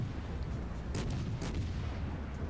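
Four-inch naval guns of HMS Cossack fire in World of Warships, two loud close booms a half second apart over a dense, rumbling background of engine and sea noise.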